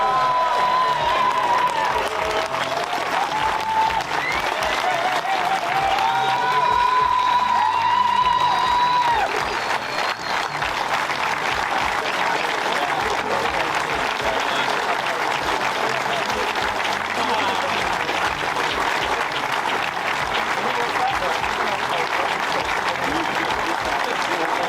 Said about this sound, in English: give the biggest cheer to them